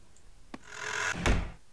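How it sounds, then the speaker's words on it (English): Video game door opening in Minecraft: a short knock-like thump, then a creaking slide rising and ending in a heavy low thud, close and fairly quiet. "Oh, great, this door opens."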